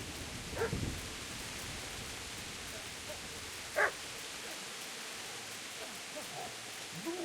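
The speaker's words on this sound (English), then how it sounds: "I heard a dog." Two short, faint dog barks from the video game King Kong Delivery, one early and one a few seconds later, with a low steady hiss in between.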